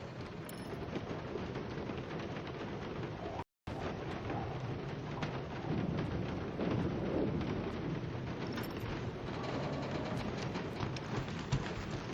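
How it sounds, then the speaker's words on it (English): Rain pours steadily in a video game with a dense, constant hiss and low rumbling thunder underneath, continuing at an even level for several seconds with a brief dropout near the start. "I ever mentioned how much I hate rain?"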